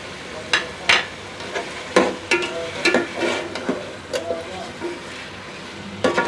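Chicken and masala fry in a pot with lemon juice for chicken pulao, with repeated clanking and scraping of a spoon stirring against the metal over a soft sizzle, at close range.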